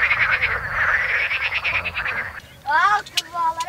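Frogs croak at night on a camping island in a dense, continuous chorus of rapid pulsing calls, and a person speaks briefly over it toward the end.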